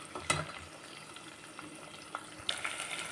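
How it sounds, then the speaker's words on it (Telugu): Curry leaves fry in hot oil in a pan for wheat rava upma, giving a faint, steady sizzle with a few sharp crackles and pops scattered through it. "మనం కరివేపాకు వేసినాం కదా, చూడండి ఎంత బాగా వేగిందో"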